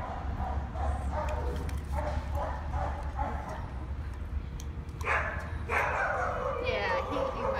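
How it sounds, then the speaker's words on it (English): A three-year-old male dog in a shelter kennel barks in a few short bursts, clearest near the end, over steady low kennel noise while a person talks to him nearby. "Oh, what a good dog you are."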